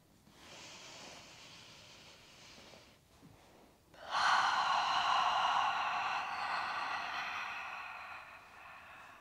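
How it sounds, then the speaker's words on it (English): Slow breathing during a restorative yoga practice: a softer inhale through the nose, then after a pause a longer, louder airy exhale out of the mouth, close and alone. "You can keep breathing in this way, in through the nose, out of the mouth."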